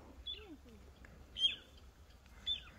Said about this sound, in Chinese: 估计这个叫声应该是它的父母。